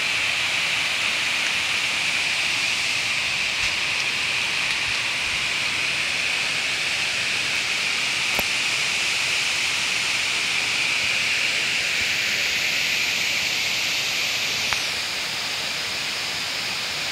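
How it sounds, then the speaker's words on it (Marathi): Water pours steadily through the gates of the Aruna dam, a continuous broad rushing roar that holds an even level throughout, with no voices. "शांत पाणी वाहत आहे"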